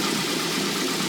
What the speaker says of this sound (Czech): Jo, a jak vidíte, točí se nám motor.